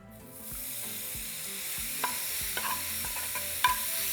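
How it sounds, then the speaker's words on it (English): Steak hits a hot comal over medium-high heat and sizzles loudly and steadily, with a few sharp clicks and taps of tongs or a spatula against the metal. "once it's nice and hot, we're going to begin to add our steak"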